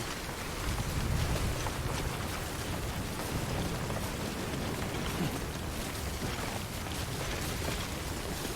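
Rainstorm in the video game Death Stranding, steady heavy rain hissing and pattering across surfaces with a low rumble underneath, continuous and enveloping, with no speech.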